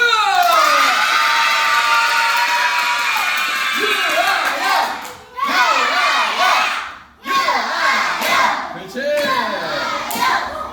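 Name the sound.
children clapping and cheering at a taekwondo birthday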